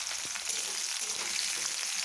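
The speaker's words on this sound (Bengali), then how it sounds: "বিনসগুলো ভেজে নেব।" Beans fry in hot oil in a wok, a steady bright sizzle that holds evenly throughout with no voices.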